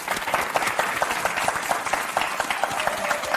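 An audience at a university geography department event applauds both teams, with brisk, dense clapping and sharp individual claps sustained at a steady moderate volume throughout.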